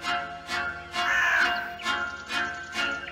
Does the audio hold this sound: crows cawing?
yes